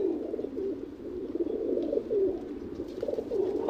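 Racing pigeons coo steadily in a loft, a continuous layered murmur of overlapping coos from several birds, fairly close and even in loudness throughout.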